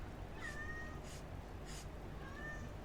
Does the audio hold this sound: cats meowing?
yes